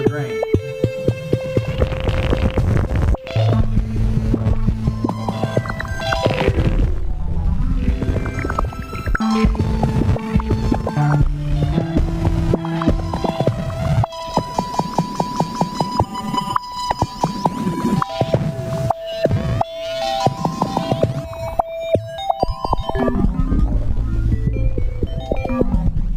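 Waldorf Blofeld synthesizer patch blended with a grainy noise layer, playing dense sustained tones and shifting melodic notes, loud and continuous with no voices.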